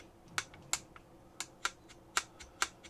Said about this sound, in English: you have to push down a little bit, and maybe you can hear it click